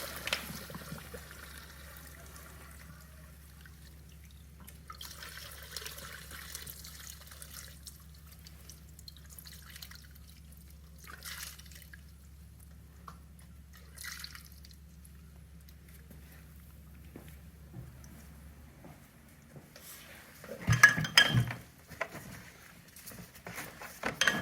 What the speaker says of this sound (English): Now we're going to give it a gasoline bath to get all the chem dip off.